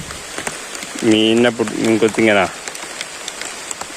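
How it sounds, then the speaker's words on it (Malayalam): Heavy rain falls in a steady, dense patter on outdoor surfaces near a kingfisher's fishing spot, and someone speaks over it briefly in the middle. "എന്തോരം മഴയെന്ന് കണ്ട."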